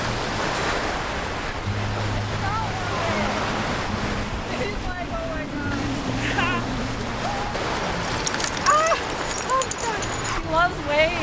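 Ocean surf washing steadily at a dog beach in the American South, a continuous roar of waves with wind buffeting the microphone, faint dog sounds and people talking over it.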